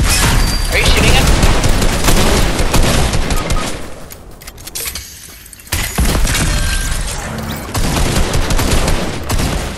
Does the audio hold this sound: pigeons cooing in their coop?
no